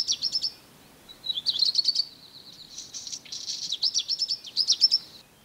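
A black redstart sings short, repeated phrases of high, scratchy trills and chirps, separated by brief pauses, clear against a quiet background.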